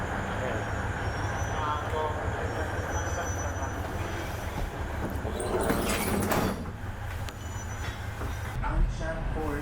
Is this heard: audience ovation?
no